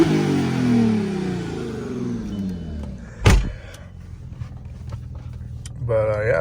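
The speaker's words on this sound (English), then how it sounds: "Car sounds pretty freaking good, not gonna lie." A 2001 Audi B5 S4 with a six-speed manual gives a steady engine drone with a brief swelling rev in the middle, heard close inside the car, ending with a whirring mechanical sound.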